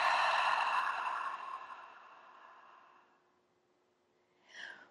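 A long, slow deep exhalation during a yoga session fades gradually into silence, followed by a brief soft inhale at the end, close and quiet with no talking.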